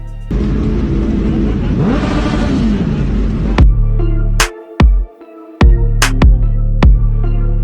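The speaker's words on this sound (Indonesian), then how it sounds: "Sang anak kecil dan ibunya sama-sama kaget saat suara knalpot racing itu meraung." A sport motorcycle with a racing exhaust roars and revs hard, then sharp exhaust pops and bangs punctuate repeated aggressive throttle blips close by.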